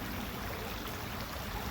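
Creek water on a nature trail in Trophy Club Park flows in a steady, broadband wash, a constant moderate rush with no break and no voices over it.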